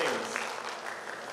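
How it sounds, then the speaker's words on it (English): Audience applause at a union and embassy co-hosted commemorative presentation, a brief steady burst of clapping from a crowd in a hall, fairly soft and even throughout. "I would like you to give yourselves a round of applause for being here with us"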